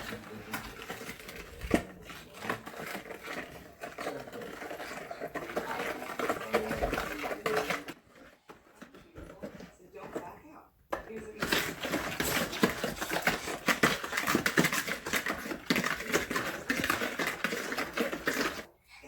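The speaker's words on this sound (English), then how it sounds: "Now let's whisk it nicely." Ghee and butter whisked by hand in a bowl for coconut cookies, a busy run of quick scraping and tapping strokes that pauses briefly midway, then resumes close and steady.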